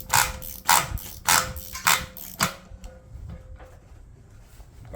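A ratchet wrench tightens a Ford truck axle nut in five quick, loud bursts of clicking strokes, then falls to a quieter, faint background.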